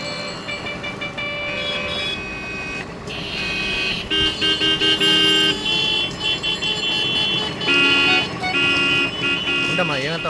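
Car horns honk in a traffic jam, with several overlapping tones, some sustained and some in short repeated toots, blaring loudly and close. Voices talk in the background.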